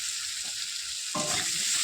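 Food frying with salt in a pan, a soft continuous sizzle that swells louder partway through as it is stirred, brief and without talk.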